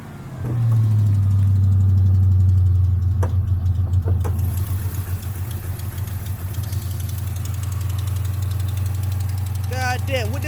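An old police car fitted with a new engine starts up and settles into a loud, deep, rumbling idle with a slight lope, and people talk nearby as it runs.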